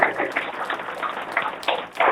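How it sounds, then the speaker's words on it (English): A round of applause for presenters at a fabrics company launch event, a short burst of many hands clapping with uneven, irregular peaks. "round of applause for these people"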